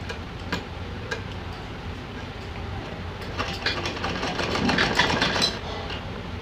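A sewing machine stitches a small dress for a Laddu Gopal idol, giving a steady mechanical whir with faint rapid ticking that swells slightly louder toward the end, with no voices.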